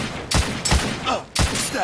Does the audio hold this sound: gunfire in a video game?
yes